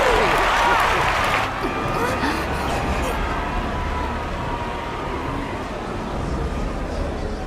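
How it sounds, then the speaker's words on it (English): A crowd cheering and applauding in Final Fantasy XIV, loud at first then fading into a busy background murmur that continues throughout. "How gracious of you all to cheer the lesser Claydons."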